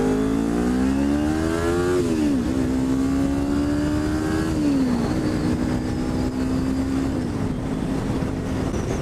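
A Kawasaki Ninja 400 motorcycle accelerates hard, its engine whine climbing in pitch and then dropping sharply at each gear shift, repeating three times under steady wind rush.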